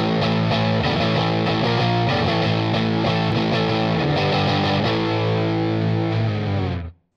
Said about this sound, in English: Special Cranker is a very natural amp-like overdrive